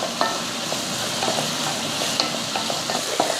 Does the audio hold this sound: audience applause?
no